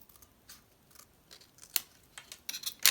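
Scissors snipping through paper while shaping a junk journal envelope, a series of short, crisp cuts that come irregularly and build to louder, quicker snips toward the end, close by and with no talking.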